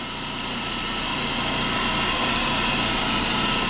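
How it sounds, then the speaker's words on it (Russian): A VAZ 2114 car engine idles steadily and evenly, with a loud continuous hum and broadband rush that swell slightly at the start and then hold constant, recorded close with no talking. "вот теперь на холостых вот так вот работает, более ровно, устойчиво"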